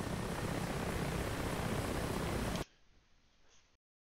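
A hovering helicopter in an anti-submarine warfare video game, a loud steady rotor and engine roar that cuts off abruptly, leaving a faint quieter drone for about a second before silence.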